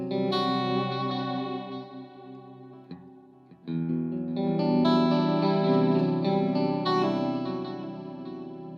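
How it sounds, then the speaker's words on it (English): Electric guitar played through a delay pedal's chorus-style modulation on its deep setting, sustained chords swirling with a wavering, watery shimmer, a brief pause near the middle before ringing back in loud and close. "So you hear the chorusy sound."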